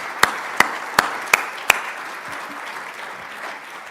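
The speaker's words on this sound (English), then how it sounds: "could we just give a round of applause to all the teams?" Applause from a conference audience opens with five sharp, loud claps, then settles into a steadier, softer patter of hands that continues to the end.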